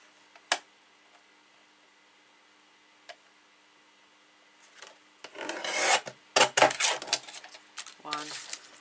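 Scissors cutting cardstock for a gift box of tags, heard as a few isolated snips and then a close, dense burst of rasping cuts and paper rustle, with faint talk in places.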